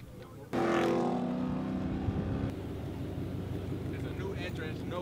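A Dodge SRT car engine turns over and revs into a loud, steady rumble, then settles to a lower idle as someone talks nearby.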